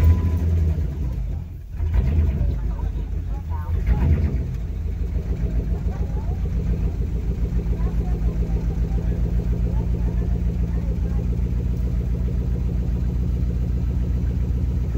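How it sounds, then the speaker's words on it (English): A 2005-07 Dodge Magnum, Charger or Chrysler 300 engine cranks and catches, then settles into a steady, throbbing idle close by, with some background voices. "And hopefully my car will start now."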